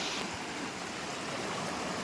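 Steady rushing wash of a stream flowing from the waterfall at Lovers Point, Daringbadi, close by and continuous with no voices.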